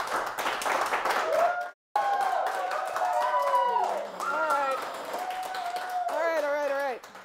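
An audience claps on a local TV talk show, a dense burst of applause from a crowd that cuts out briefly and resumes, with voices and music-like tones running underneath.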